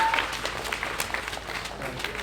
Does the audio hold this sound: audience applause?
yes